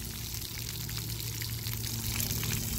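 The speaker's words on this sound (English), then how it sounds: "Stay standing under it till it pours on you." Water pours down from an overhead splash pad feature, a continuous bright splashing rush that swells slightly toward the end, fairly close, with no talk.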